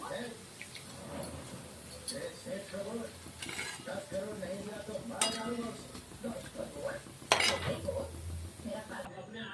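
Gram flour droplets frying in a pan for motichoor laddu, a soft sizzle under clinking utensils and stirring scrapes against the pan, with a person talking throughout.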